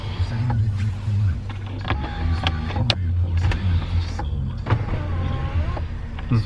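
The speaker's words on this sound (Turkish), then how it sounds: "Şöyle perdesi de elektrikli aracın sunroofunun onu da söyleyeyim." Electric sunroof shade motor of a Mercedes E250 whirring as the shade slides open inside the cabin, with someone talking over the steady hum.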